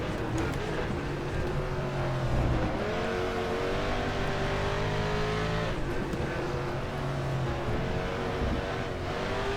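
A 1992 Mustang DTM race car engine in the racing video game RaceRoom Racing Experience at the Nürburgring GP circuit drones and revs continuously, rising through gears and dropping with shifts, loud and close throughout.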